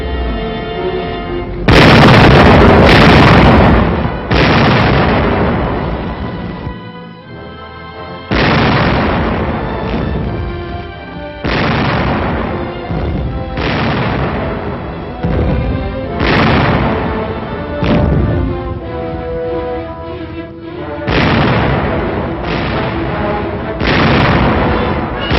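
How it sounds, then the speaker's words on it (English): Tank guns firing and shells exploding to clear obstacles in World War II-era armored combat footage, a series of heavy booms with rumbling decay, roughly a dozen blasts spaced a second or two apart, loud and close. "By direct fire, trained armored force gunners clear obstacles for their infantry teammates."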